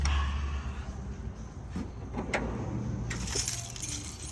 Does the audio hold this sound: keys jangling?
yes